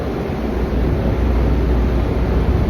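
Strong offshore sea waves heard from a fishing boat, a steady loud rushing wash with wind buffeting the microphone throughout, no voices.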